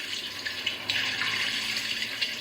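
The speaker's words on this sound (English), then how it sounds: "The fireman fetched buckets of soapy water and began to rub Brum all over." Water runs and splashes steadily, like a tap or washing at a sink, a continuous hissing wash with no talking.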